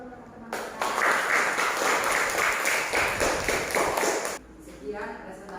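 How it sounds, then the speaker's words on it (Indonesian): An audience at a classroom presentation claps for the presenters, a loud burst of applause that begins abruptly, holds steady for about four seconds and then cuts off, with a voice heard faintly before and after. "boleh dikasih aplaus untuk teman-teman kita"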